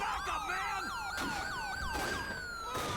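Ambulance siren from the police game LSPDFR, wailing and yelping with rapidly sweeping tones over a busy mix of other warbling emergency sirens, loud and continuous with faint background clatter.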